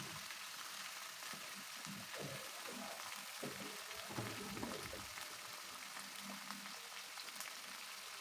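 Cut chicken pieces sizzle in a pan with bird's eye chilies, giving a steady frying hiss with scattered crackles and pops at a moderate, close level.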